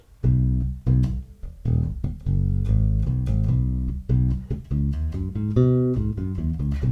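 An electric bass plays a major pentatonic groove of short, punchy notes with brief gaps, repeating its phrase, alone and upfront.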